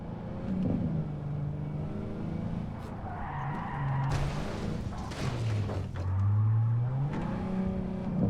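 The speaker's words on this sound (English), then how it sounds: "Drift kazası olur arada öyle." A car drifts and skids in Cyberpunk 2077, its tires squealing in long wavering tones over a steady engine drone. The revs climb and fall throughout, and the tire noise swells near the end.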